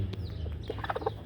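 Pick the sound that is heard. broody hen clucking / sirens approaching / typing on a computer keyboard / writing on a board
broody hen clucking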